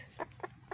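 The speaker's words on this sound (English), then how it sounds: "the rest is going to the chickens because they're going to love me for it" Backyard chickens cluck in three short, separate bursts at close range while pecking at leftover frittata with ham, with a low steady hum underneath.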